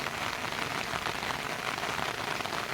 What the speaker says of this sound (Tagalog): At umuulan na naman.